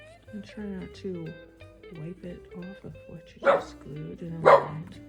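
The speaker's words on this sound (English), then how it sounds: "Excuse my dog from barking." A pet dog barks twice in quick succession, sharp and fairly close, while a person talks steadily through a craft demonstration.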